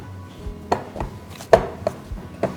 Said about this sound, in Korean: 반죽을 이렇게 치대서 끈기를 나게 해줘야 송편을 쪘을 때 송편이 쫄깃쫄깃하고 맛있어요.